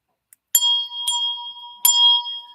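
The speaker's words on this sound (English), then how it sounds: "I used to be able to ring bells." A small hand bell rings three times, each strike bright and clear with a sustained metallic tone that fades before the next, loud and close with no talk.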